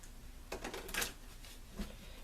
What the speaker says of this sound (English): I am shuffling the cards with the intention of calling in the energy of spirit and the angels.